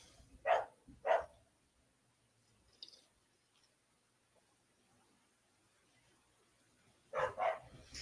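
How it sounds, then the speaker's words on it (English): Dogs barking while playing outside: two sharp barks close together near the start, then quiet, then another pair of barks at the end, heard from some distance indoors. "Is your dog barking because of my dogs, Emily?"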